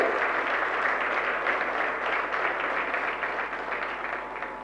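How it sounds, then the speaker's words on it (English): A large audience at a public talk breaks into sustained applause, a dense, even wash of many hands clapping close and loud for several seconds, tapering slightly at the end with no voices over it. "Big round of applause first to all of you."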